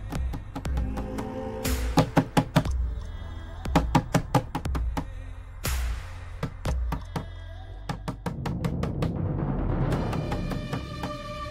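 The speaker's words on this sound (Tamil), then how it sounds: "ராணி சொன்னா கேளு, கதவு தோற" Sharp knocks rap against a closed door in a Tamil TV drama scene, coming in several uneven clusters of repeated blows over a steady background music bed.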